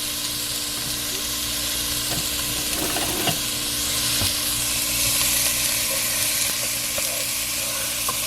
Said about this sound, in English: right now we've got the jalapenos, onion, garlic that I sauteed